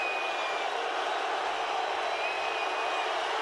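Home crowd of New Mexico Lobos fans at a men's college basketball game, a steady loud roar and whistling noise filling the arena throughout while a Nevada player shoots a free throw.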